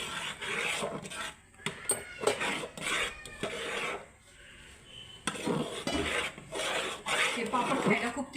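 A spoon rasps and scrapes against a pot in repeated rubbing strokes while jowar flour dough (ukad) is stirred and mixed. The bursts are close and irregular, with short pauses between them.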